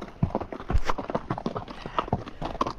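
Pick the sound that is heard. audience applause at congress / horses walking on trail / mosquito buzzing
horses walking on trail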